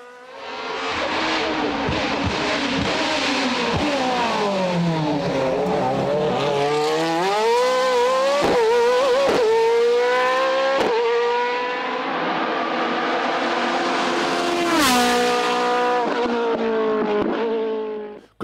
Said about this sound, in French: Sébastien Petit complète le podium mosellan sur son Osella PA30 à moteur V8